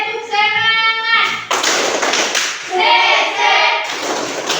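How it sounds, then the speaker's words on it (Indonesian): A group performs a rhythmic spirit clap at a lively gathering, with sharp bursts of clapping mixed with loud shouted and chanted voices close by. "Tepuk semangat."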